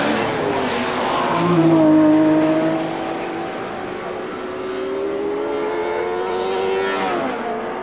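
A DTM race car at speed on the Nordschleife in 1993, driven by Klaus Ludwig, heard onboard: engine note rising and falling through gear changes and corners, loud and close with no talk.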